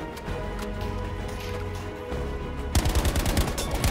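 Video game gunfire from Battlefield V: a dense background battle din, then a rapid automatic burst of close, loud shots rattles off over the last second.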